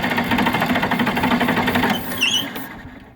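A John Deere 4010 tractor engine with the throttle wide open cranks and tries to fire. It makes a fast, rhythmic, throbbing churn for a few seconds, then cuts off into quiet.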